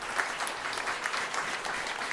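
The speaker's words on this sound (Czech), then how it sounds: "V tom případě mu zatleskáme určitě." Audience applause at a cimbalom folk music performance, a steady wash of clapping from a moderate-sized crowd lasting a couple of seconds, even in level without voices on top.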